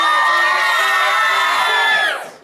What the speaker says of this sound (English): that was just screams